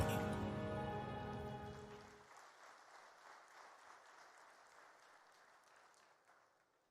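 Audience applause at the African Development Bank Annual Meetings, a soft, distant patter of clapping that follows the loud end of a promotional segment and gradually fades away.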